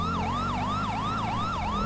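Police car siren in the video game GTA 5, a loud wailing tone that sweeps up and down in quick, regular cycles, heard alone without talk.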